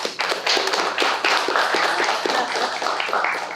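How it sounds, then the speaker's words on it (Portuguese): Audience applause at a cultural conversation circle held at an Afro-Brazilian religious house, with many distinct close hand claps in a steady, moderately dense patter. "Palmas para vocês."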